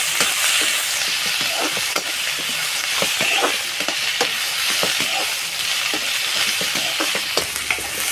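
Onion fries slowly in a pan, a steady close sizzle broken by frequent scraping and stirring clicks from a utensil, with no voices.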